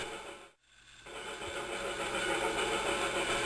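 Model railway engines for a retelling of Enterprising Engines, including diesel 7101, start up after a brief silence and settle into a steady, mid-pitched running hum that grows slightly louder, with no talking.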